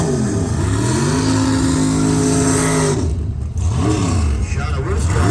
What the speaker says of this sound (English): The Fortino's sponsored rear engine dragster.